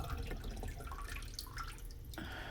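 Water trickles and drips faintly from a frog tank pump as it is lifted out of the tank, a soft, close, continuous splashy patter with no voices.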